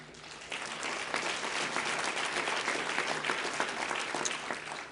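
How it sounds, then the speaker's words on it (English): A conference audience applauds a United Steelworkers guest, a dense, steady wash of many hands clapping that holds at an even level for several seconds. "Please give a big round of applause to Stan"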